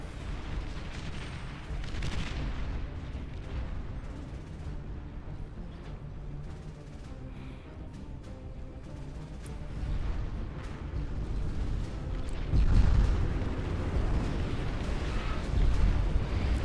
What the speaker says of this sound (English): a wall of flak cannons are wiping them out before they get anywhere close